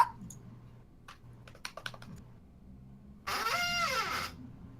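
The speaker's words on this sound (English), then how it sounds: "I can't tell if Sonny is doing the D20 or typing something" A few quick keystrokes clack on a computer keyboard during a tabletop game session, sparse and faint, followed by a louder burst of broadband noise with a sweeping tone.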